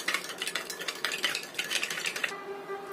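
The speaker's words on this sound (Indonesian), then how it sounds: "Aduk sampai susunya larut." Spoon stirring milk and sugar in a bowl, a quick run of close scraping and clinking strokes for a few seconds before it stops, with no talk.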